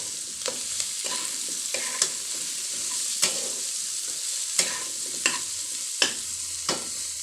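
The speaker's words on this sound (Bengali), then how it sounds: "কারণ এখন আলুগুলোও একটু ভাজা ভাজা হবে আর পেঁয়াজটাও তার সঙ্গে ভাজা ভাজা হবে" Potatoes and onions fry in a pan for a mashed potato dish, giving a steady close sizzle broken by repeated sharp scraping strokes of a stirring spoon at irregular intervals.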